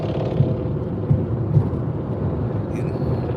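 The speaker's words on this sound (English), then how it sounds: "this damn loud ass Mustang with the dual pipes" A loud Ford Mustang with dual exhaust pipes drones low and steady while driving, a continuous rumble from inside the car with a few brief bumps.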